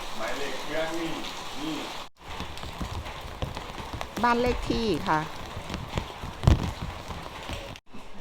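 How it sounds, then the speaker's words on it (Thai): Rain falls steadily on a surface outdoors through a night of wet weather, a constant patter under a woman's brief speech and some clattering knocks. "เดี๋ยวที่ให้เบิ้งบรรยากาศฝนตก"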